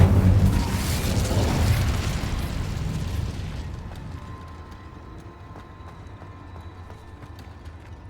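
Incendio fire spell cast in Hogwarts Legacy, a loud roaring burst of flame and crackling that rushes in at once, holds for about three seconds, then fades into a quieter tail of small ticks and pops.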